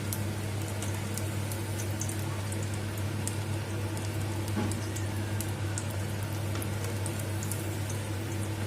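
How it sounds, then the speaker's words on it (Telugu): Spinach and moong dal vadas deep-fry in hot oil, giving a steady, close bubbling sizzle dotted with small crackles and pops, beneath a low constant hum. "ఇలాగా గోల్డెన్ బ్రౌన్ కలర్ వచ్చే వరకు ఫ్రై చేసుకోవాలి తిప్పుకుంటూ"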